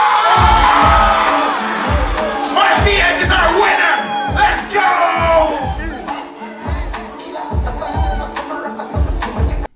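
Crowd at a beat battle roaring, whooping and shouting over a loud, pounding bass beat with steady thumps, the cheering strongest at first and tapering off near the end.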